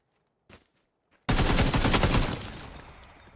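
An MG3 machine gun fires in a video game. After a brief quiet tap, one loud, dense, sustained burst of rapid shots runs for about two seconds and then tapers slightly.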